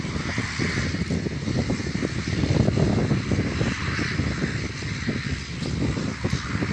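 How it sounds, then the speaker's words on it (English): Airplane engines roar steadily as a plane taxis closer to an airport terminal building, a continuous dense rumble with a faint crow cawing in the distance. "can you hear the engines? The plane is getting closer as it nears a building where the passengers will get on and off."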